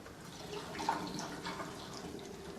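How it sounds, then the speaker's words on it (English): Dried fruit infusion liquid poured through a funnel, a soft, steady trickle and splash of liquid running into a container, fairly quiet and close, with no talking. "you'll just take a funnel and you'll just go and you'll pour it"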